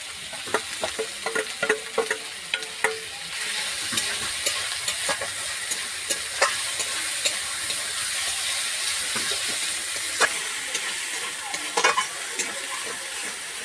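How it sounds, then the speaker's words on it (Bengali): Ginger, garlic, cumin, green chilli and tomato paste sizzles and fries in a pan for a fish curry, with steady hissing and repeated sharp stirring clicks and scrapes throughout, close and clear with no talking. "মশলাটা ভালোভাবে ভাজা হয়ে গিয়েছে"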